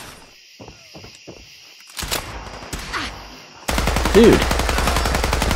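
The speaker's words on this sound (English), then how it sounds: "I'm just going to keep firing until he dies." Rapid automatic gunfire from the video game Fallout 4 bursts in partway through, loud and sustained with dense repeating shots, after quieter scattered game sounds; a voice speaks briefly.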